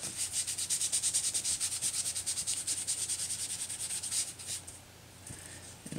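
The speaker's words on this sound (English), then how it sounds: "I'm just going to lightly go over them, and that kind of polishes them and gets all the excess." Rhythmic dry rubbing as excess gilding flakes are buffed off a stamped birthday card, steady close strokes that thin out and soften toward the end.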